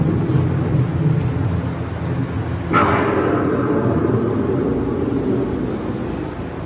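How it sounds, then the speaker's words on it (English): Steady heavy rain falls while a sharp thunderclap cracks partway through and rolls off into a long rumble. "The approaching storm may seem violent and destructive to us"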